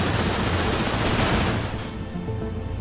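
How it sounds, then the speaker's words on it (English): A rail shot weapon fires in the game Cryptark, a dense, loud burst of blasting and crackling that rolls on for a moment before easing off into a lower rumble. "Let's just destroy that with a rail shot."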